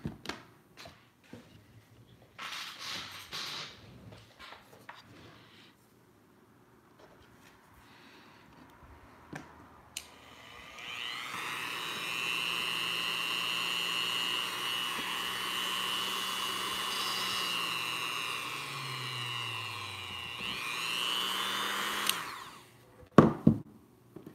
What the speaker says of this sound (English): I guess it doesn't hurt to Dremel down and see if that helps.